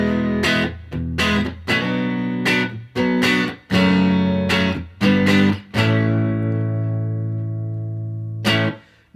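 Telecaster electric guitar on a clean modern country rhythm tone with a touch of distortion and compression: a series of punchy strummed chords separated by short gaps, then a final chord left ringing before one last quick hit.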